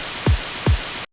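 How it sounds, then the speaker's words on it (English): White noise from a Serum 2 synth in gate mode, a steady full-band hiss cut short after about a second, with two kick drum thumps landing evenly beneath it. "So I'll just get this white noise out of Serum 2 for now."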